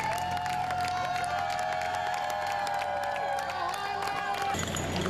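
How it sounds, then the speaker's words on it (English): Crowd noise, clapping and cheering from spectators along the Boston Marathon finish line as runners arrive, a steady dense roar at close range throughout, with a shift in texture near the end. "Applause and cheers helped push Boston Marathon director Dave McGilvery to the finish line"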